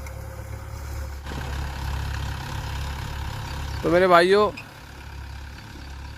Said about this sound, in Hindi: बहुत ही बढ़िया काम कर रहा है ट्रैक्टर